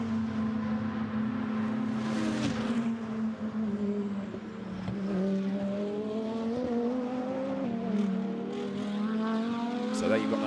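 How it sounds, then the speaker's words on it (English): A GT2 race car accelerates up toward the Lesmo bends at Monza, its engine a steady, loud drone with rising harmonic sweeps as it climbs through the gears, heard under continuous commentary. "there you've got number 7, Adrian Spechka, accelerating his way up towards the Lesmo bends"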